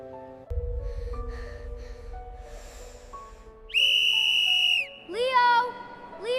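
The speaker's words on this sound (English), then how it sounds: "Did anyone else hear that whistle sound?" A sharp, high whistle blows twice, a long steady blast followed by a shorter wavering one, over a background of low rumble and scattered tonal sounds.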